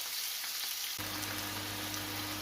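Burger patties fry in a pan, starting as a faint hiss that jumps to a loud, steady crackling sizzle about a second in, close up with no talking.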